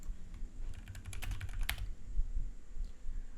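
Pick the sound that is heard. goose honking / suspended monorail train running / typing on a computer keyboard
typing on a computer keyboard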